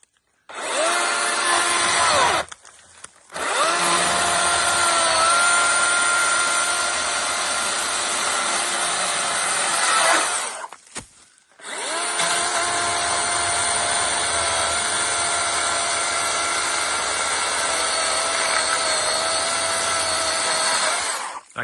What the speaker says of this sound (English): make sure you buy yourself one of these battery-powered chainsaws